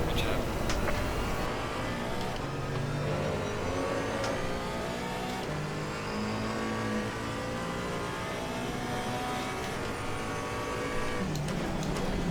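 Race cars in Assetto Corsa Competizione, including a Camaro and an Aston Martin, whine and rev in a dense, continuous engine drone with shifting pitches as they jostle for position; a voice talks over the racing.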